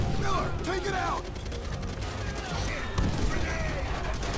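Rifle and machine-gun fire crackles in the World War II shooter Call of Duty: World at War, with bursts of shots and mechanical clatter over a noisy battle background while a player talks.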